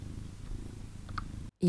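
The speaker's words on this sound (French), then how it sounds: "Vous l'entendez ronronner?" A pet cat purrs close up with a steady, low rhythmic rumble for about a second and a half, then falls briefly silent before a short, louder sound.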